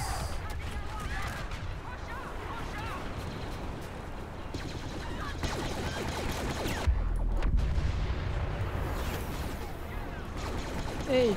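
Gunfire and explosions in Star Wars: Battlefront, Walker Assault mode, sound as a dense, continuous wash of blaster shots and booms, with someone talking over the battle.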